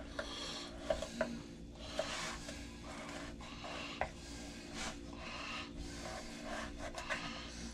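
A knife slicing and trimming fat from a 30-day dry-aged beef steak, with soft, quiet rasping strokes and a few light taps on the board, close and faint, without talk.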